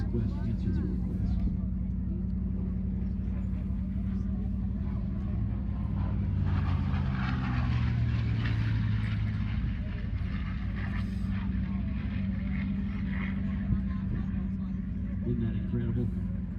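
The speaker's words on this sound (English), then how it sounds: "listen in to the Mustang as it does its photo pass" A P-51 Mustang makes a photo pass at a Columbus, Ohio twilight airshow, its piston engine droning steadily and swelling as it goes by, with a commentator talking over much of it.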